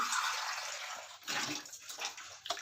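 Water splashes and pours steadily into a bowl up close, with a few surges and gurgles toward the end.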